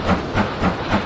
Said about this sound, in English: So we're going to ride with the good old train.